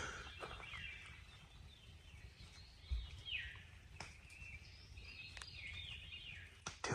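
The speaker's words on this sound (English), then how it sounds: "hopefully you guys can hear those birds" Birds sing just after rain as dusk falls at a car-camping spot, their faint chirps and warbling phrases repeating over soft background noise, with occasional low thumps nearby.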